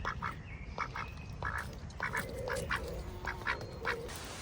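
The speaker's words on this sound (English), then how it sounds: "the ducks have been very quiet, so I'm going to see what they're up to" Ducks in a permaculture orchard quack in short, repeated bursts, several calls overlapping at moderate distance above a low outdoor background hum.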